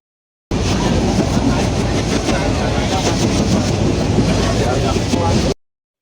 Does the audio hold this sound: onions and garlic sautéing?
no